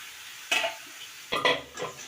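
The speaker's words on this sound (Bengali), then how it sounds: "দিয়ে মোচাটা দিয়ে সব কিছু দিয়ে একটু কষাবো" Banana blossom is stirred in a pan with fried potatoes and cooked lentils: three distinct scraping strokes of a spatula against the pan over a faint sizzle, close and fairly loud.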